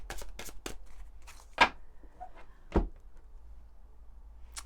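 A deck of tarot cards is cut and shuffled close up, giving several quick riffling bursts and two sharper slaps of the cards, with no voice.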